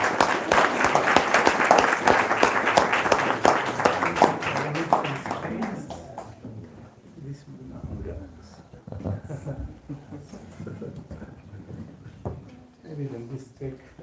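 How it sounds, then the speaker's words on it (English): An audience at a spiritual class gives a magician a round of applause, loud dense clapping for about six seconds before it dies away, followed by scattered taps, knocks and quiet voices talking. "we will request Madhuchanda with a massive round of applause"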